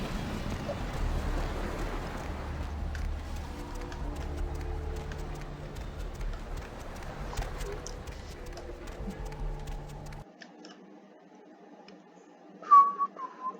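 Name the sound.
person whistling into a headset mic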